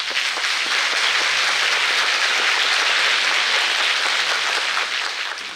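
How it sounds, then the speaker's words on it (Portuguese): Dense audience applause fills the space, many hands clapping at once in a loud, sustained wash that eases slightly at the end. "Eu quero uma salva de palmas."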